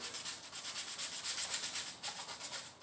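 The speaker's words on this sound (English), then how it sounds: "And just sand down these stars a little bit." Sandpaper rubs over painted stars on a scrap-wood flag in steady back-and-forth strokes, a close, soft, hissing scrape repeating rhythmically with no voices.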